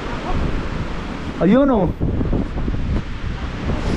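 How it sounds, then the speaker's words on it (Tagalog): Strong outdoor wind buffets the microphone with a constant loud rumble and roar. A person speaks briefly partway through. "Kaso ang lakas ng hangin."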